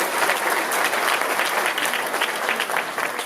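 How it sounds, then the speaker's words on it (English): A crowd at a city inauguration ceremony in Compton applauds family members, a steady, dense wash of clapping that holds at an even level for the whole stretch with no voices over it. "Let's give a round of applause for all of my family members"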